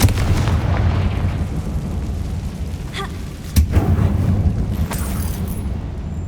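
In the Hogwarts Legacy video game, a Confringo explosion spell goes off inside an abandoned mine, a loud rumbling roar with a sharp blast near the middle, followed by more crackling bursts over a continuous low boom.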